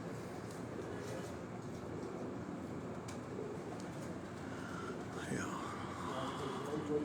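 Evening pigeons settle on a rooftop in Rawalpindi. Soft coos and bird calls drift over a steady, noisy background, with a clearer call near the end.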